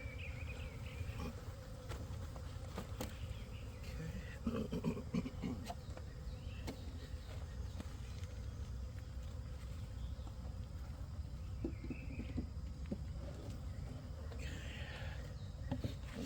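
Honey bees drone around an open yellow hive during a backyard inspection, a steady low hum with scattered closer buzzes passing the microphone, fairly quiet and continuous, with no talking.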